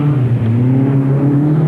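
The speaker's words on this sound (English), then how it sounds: "You can hear the engine dying as he hits the steep pinch there." A 1983 rally car's engine labours and drones on a steep climb, a loud close steady tone that sags and wavers as it loses power.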